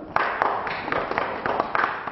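Scattered audience clapping at a 2015 general election hustings on foreign policy in the West Midlands, a short uneven patter of hand claps from a small crowd in a hall, moderately close.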